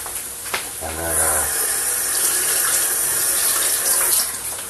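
Water running from a kitchen tap as something is rinsed off before grating garlic, a loud steady close hiss and splash that carries through the whole stretch, with a brief voice near the start.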